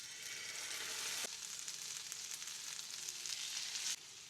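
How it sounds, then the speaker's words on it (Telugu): Stuffed brinjal pan-frying in oil, a steady, bright sizzle that swells and shifts as pieces settle, then drops sharply near the end, with no talking. "ఇంకా దీన్ని ప్యాన్ ఫ్రై చేసుకోవడమే."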